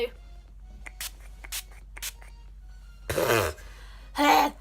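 Two short, close hissing bursts of setting spray are misted onto a face, following a few faint taps and rustles.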